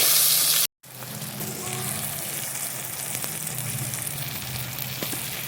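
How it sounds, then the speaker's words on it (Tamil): Three tomatoes sauté in a pan as the base for a village-style crab curry, giving a steady close sizzle that cuts out for a moment near the start and then carries on evenly. "நல்லா வதக்கிக்கோங்க."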